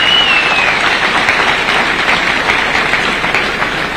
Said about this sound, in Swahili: Pigeni makofi huyu Sam jamani.